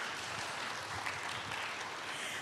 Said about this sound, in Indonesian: Boleh tepuk tangan terlebih dahulu Ibu Bapak?